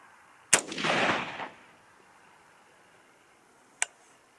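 Two sharp rifle reports from a 6.5 Grendel firing 90 grain TNT bullets at a target: a loud shot with a brief rolling echo, then a second crack about three seconds later.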